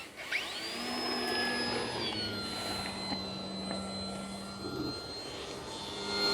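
An FMS Kingfisher 1.4 m RC foam plane takes off, its electric motor spinning up to a high, steady whine that holds and slowly shifts pitch as it climbs away outdoors.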